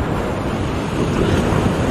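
Waves breaking on a beach along the Cape to Cape Track in Western Australia, a loud, continuous roar of surf mixed with wind buffeting the microphone, close and unbroken for the whole short stretch.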